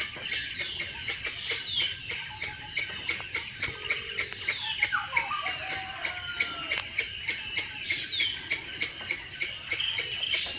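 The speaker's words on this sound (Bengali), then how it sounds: "পাখির কিচিরমিচির শব্দে আমাদের ঘুম ভেঙেছে।" Early morning at a lakeside eco resort in Kaptai brings scattered bird chirps and calls over a dense, steady drone of crickets and insects, moderately distant and without speech.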